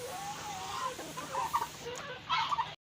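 Several Brown Dekalb chickens cluck in short, choppy bursts close by in their coop, with a steady low hum in the background and a brief pause before a final cluster of clucks.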